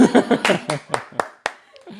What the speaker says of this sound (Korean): 저분들에게 뜨거운 박수